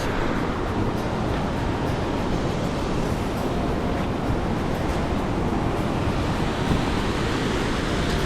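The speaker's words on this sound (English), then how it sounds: "Here's the top of the Vernal Falls." Vernal Fall in Yosemite, heard from its top, roars in a constant, dense rush of water, loud and unbroken throughout with no voices.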